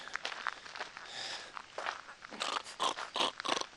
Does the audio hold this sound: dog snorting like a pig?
yes